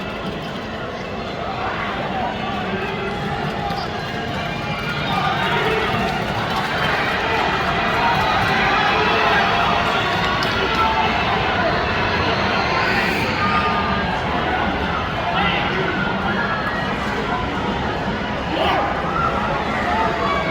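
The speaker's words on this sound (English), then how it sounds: "Right now you could hear the roar of the crowd." At the end of a horse race at Santa Anita Park, a large crowd roars in a broad, steady wash of cheering that swells midway and holds loud, with voices and babble mixed in.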